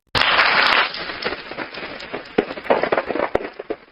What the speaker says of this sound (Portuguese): Vamos botar palma aqui, ó